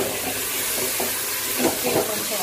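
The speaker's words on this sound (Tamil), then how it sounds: "தக்காளி வதங்குறது" Tomatoes sauté in a pan for chicken biryani, a steady close sizzle and hiss with a few soft stirring scrapes, in a kitchen during rainy weather.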